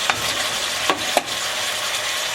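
Meat sizzles steadily in a frying pan, a continuous close hiss broken by a few sharp clicks and scrapes of utensils, with no talking.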